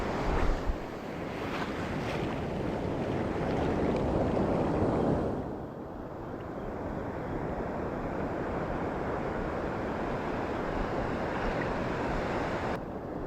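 Ocean surf rolls and washes steadily around a fishing boat at sea, a broad continuous roar with wind buffeting the microphone, slightly heavier in the first few seconds before settling into an even wash.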